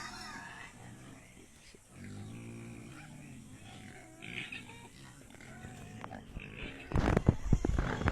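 Low, snuffling pig grunts come and go at a moderate distance, with faint voices in the background and louder rustling bursts near the end.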